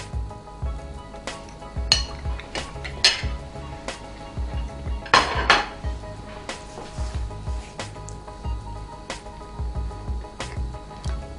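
Cutlery and plate clinks as a slice of Oreo cheesecake from an Emeril Lagasse pressure air fryer is cut and served, with scattered close scrapes and taps and a few louder knocks, no voices.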